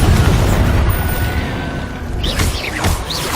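Booming Confringo explosion spell in Hogwarts Legacy, a loud low blast at the start that fades into rumbling, followed by sharper crackling bursts and whooshing magic near the end.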